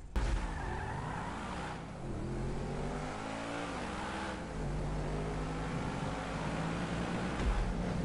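A car in GTA V revs hard and skids with tire squeal as it pulls up, engine pitch sweeping up and down repeatedly, loud and close with no talk.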